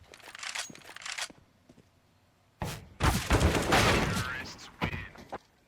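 Gunfire in a Counter-Strike match, a short burst with bullets striking a wall, mixed with crunchy clicks and game noise, loud and close, with quieter scattered taps before it.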